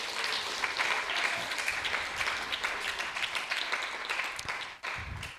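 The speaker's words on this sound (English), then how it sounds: "please give her a big round of applause." An audience at an ISKCON temple event claps in a full, lively round of applause that holds steady, then briefly dips before resuming near the end.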